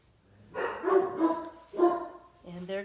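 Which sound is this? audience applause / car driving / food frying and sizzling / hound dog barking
hound dog barking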